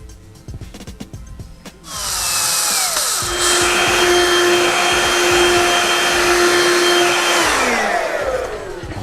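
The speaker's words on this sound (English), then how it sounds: "That's my shop vac for now." Small shop vacuum in a workshop kicks on after a couple of seconds of clatter, then runs at a steady loud whine with a high motor tone for the rest of the clip, with no talking.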